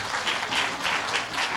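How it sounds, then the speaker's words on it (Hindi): Loud applause from an audience at a business plan presentation, dense clapping sustained for under two seconds with no talking over it. "जोर का ताली लगाइए"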